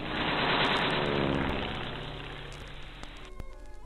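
A World War I airplane in dogfight footage gives a loud, rough, noisy engine drone that slowly fades, then cuts off abruptly, leaving faint crackles.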